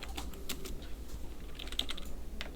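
Keys tapped on a computer keyboard to enter a drafting command, a quick run of clicks with brief pauses, close and moderately quiet over low room hum.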